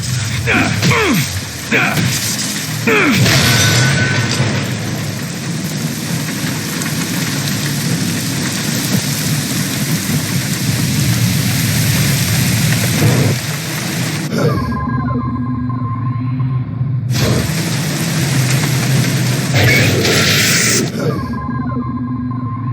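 Heavy pouring rain with deep rumbling thunder in The Bureau: XCOM Declassified, a loud dense wash of rainfall that briefly drops away twice, with faint tones and a voice in the mix.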